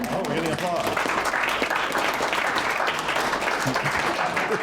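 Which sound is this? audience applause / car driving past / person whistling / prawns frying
audience applause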